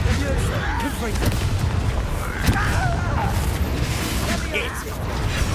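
Confringo blasting spells burst in the Hogwarts Legacy video game, a run of booming explosions and crashes amid chaotic combat noise, while a voice shouts over them.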